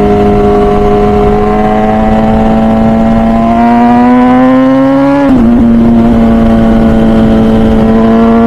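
An MV Agusta Brutale 1000 RR naked superbike's engine holds a loud, steady drone on a curvy road near the Nürburgring, its pitch rising gradually before a brief dip as the rider shifts, then settling again.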